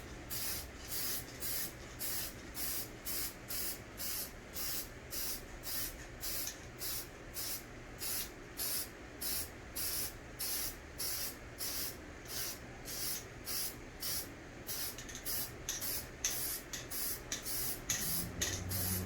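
A spray paint can hisses in short, regular bursts while painting a Dodge rim, dozens of quick sprays in steady rhythm with brief pauses between, close and fairly quiet.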